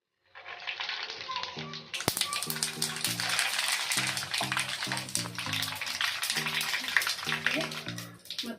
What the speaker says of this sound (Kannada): ಈಗ ಆಯಿಲ್ ಇದೆಯಲ್ಲ ಈಗ ಸಾಸಿವೆ ಜೀರಿಗೆ ಹಾಕೋಣ ಫಸ್ಟು